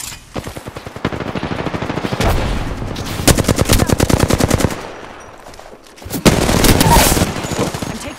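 Rapid automatic gunfire in the video game Apex Legends, several loud bursts of repeated shots with brief pauses between them, close and dominant, with faint voice chatter underneath.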